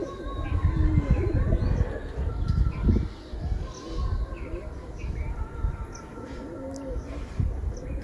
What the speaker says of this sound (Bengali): ভালোই কোয়ালিটি পায়রা